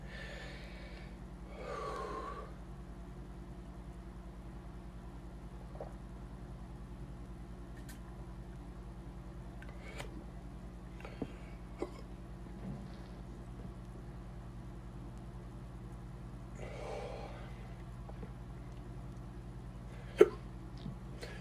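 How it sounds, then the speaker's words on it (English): A man hiccups several times while tasting beer and chocolate, each hiccup a short, soft gulp spread out over a steady low hum of background noise. "These hiccups are really a bastard."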